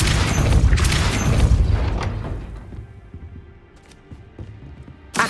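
Depulso spell cast in Hogwarts Legacy, a loud booming blast with rumbling, crashing mechanical debris that decays over a couple of seconds into quiet clanks, then a sharp hit at the end.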